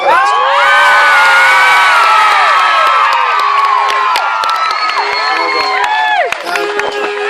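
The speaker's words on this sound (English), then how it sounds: "It's the noise when you're coming up the steps there." A big crowd roars and cheers loudly and continuously, with shouts and whoops rising over the din.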